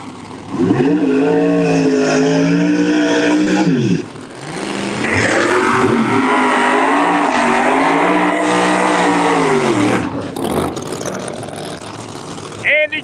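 A Ram pickup truck races down the lane in a drag racing elimination round, its engine roaring loudly and steadily with shifting pitch while a commentator talks over it throughout.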